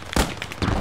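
A tank cannon shot in the WWII video game Post Scriptum: a loud, close blast with a short echoing tail, followed by another booming report within a second.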